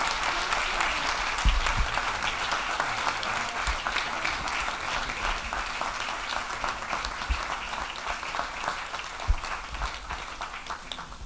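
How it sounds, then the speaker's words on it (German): Audience applause welcoming Ina and Boyko Parvanov at an event in Vienna, Austria, a sustained dense clapping from a crowd that holds steady and tapers slightly toward the end. "And now please give us a big applause for Ina and Boyko Parvanov."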